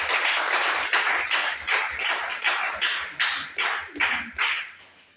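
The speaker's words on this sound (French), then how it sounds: "Je pense qu'on peut les applaudir" An audience claps for the trainers at a civil protection and UNESCO training session for journalists and engineers, producing a run of rhythmic clapping bursts that swell and fade about twice a second, nearby and without talk.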